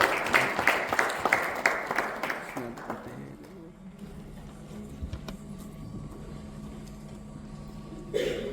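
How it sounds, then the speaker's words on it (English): An audience at an education awards ceremony in Dubai breaks into loud applause, a dense burst of clapping that fades after about three seconds into quiet room tone, with brief noises and a final thump near the end. "a big round of applause"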